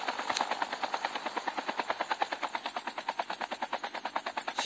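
Rapid, rhythmic thumping of helicopter rotor blades in Call of Duty Mobile, steady and fairly close, with a brief burst of gunfire early on.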